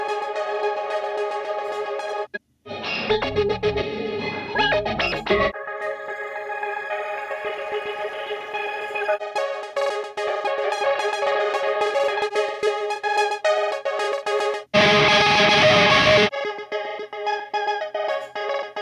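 Layered synthesizer tones with a dense Guitar Rig 6 effects texture, broken by abrupt bursts of brighter noisy sound and brief dropouts; steady and fairly loud, no talking.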